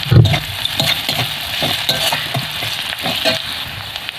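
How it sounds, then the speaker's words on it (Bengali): Onions sizzle in hot oil in a pan, a loud, close, continuous crackle broken by the scrape of stirring, with no voices. "পেঁয়াজটা লাল লাল করে ভাজা হয়ে গেছে"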